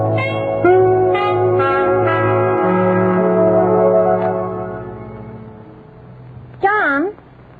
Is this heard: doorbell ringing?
yes